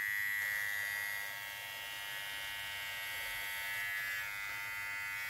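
A VGR V-055 electric hair trimmer switched on and buzzing steadily at close range, a bright high-pitched whine with a faint rattle that holds level throughout, with no talking.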